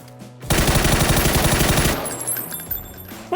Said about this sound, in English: Okay, now we're getting shot at.